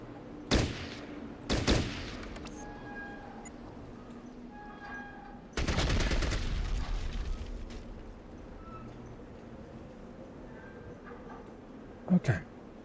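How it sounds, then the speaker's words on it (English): Gunfire at barricades in Fallout Tactics: Brotherhood of Steel, a few loud separate shots and one longer burst, with quieter background and someone talking in between. "Go ahead and blow up these barricades so I don't have to deal with them in the future"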